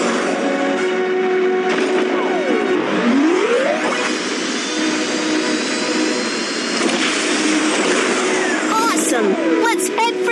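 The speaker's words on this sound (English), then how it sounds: "Press the button to accelerate the rocket." A cartoon rocket blasting off and accelerating in the children's game Babybus Adventure, a continuous loud roaring rumble with rising and falling whooshing tones sweeping across it, thick and steady throughout.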